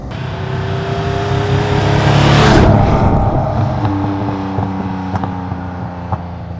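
A 1966 Ferrari 330 GTC with a 300 PS V12 roars past up close. Its loud engine note builds to a peak, then drops in pitch and fades as the sports car moves away.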